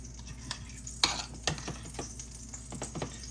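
Eggs frying in a pan, soft steady sizzle punctuated by a few sharp utensil clicks and scrapes against the pan, fairly quiet and close.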